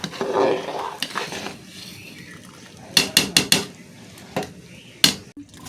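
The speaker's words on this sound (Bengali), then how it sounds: "এখন গোটা গরম মশলাটা দিয়ে দিচ্ছি একটু নাড়িয়ে দেবো" A spoon clinks against a metal pot as whole garam masala is stirred into heating water for fried rice, with a few sharp metallic taps and scrapes in a quiet kitchen.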